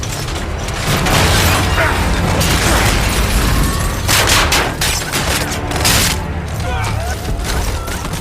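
Video game combat full of rapid gunfire bursts, booms and explosions, loud and continuous, with mechanical clatter and voices talking over the action.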